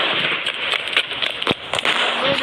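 A motorbike blowing up in the Indian Bike Driving 3D mobile game, heard as a dense run of crackling, firework-like bursts with several sharp pops over a constant noisy bed.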